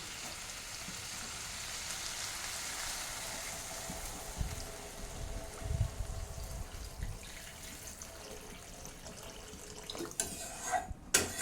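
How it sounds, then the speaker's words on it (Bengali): Water poured into a pot of thin Bengali fish curry, a steady running, splashing flow that carries on for most of the clip, with a few louder knocks and splashes near the end. "চলুন এবার আমি জল ঢেলে দিচ্ছি"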